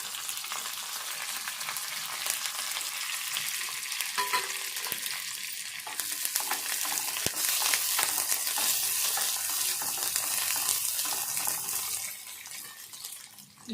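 Onion, curry leaves, green chillies and coriander fry in hot oil in a pan, giving a loud, continuous sizzle with bursts of crackle and stirring scrapes that swell midway and ease off near the end.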